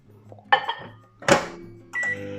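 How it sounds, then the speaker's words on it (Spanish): Microwave oven running a 30-second heating cycle on smoked cheese, with clunks of the door and dish handling, a brief mechanical burst midway and a steady hum starting near the end. "vamos a meter este en el microondas a ver qué pasa"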